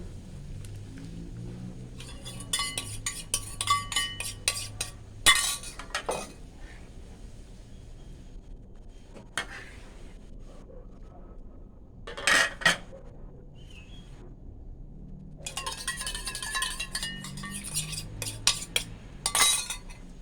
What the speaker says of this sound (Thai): น้ำเดือดยายก็เอาหมูลงนะทุกคน